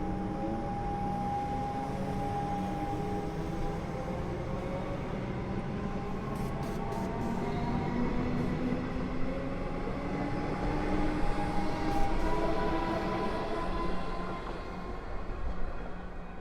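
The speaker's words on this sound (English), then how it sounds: "Now let me go catch the next train out of here." A train rumbles past at Fawkner station on the Upfield line with a steady mechanical drone and a sustained tonal hum, slowly swelling louder midway, with a few faint clicks.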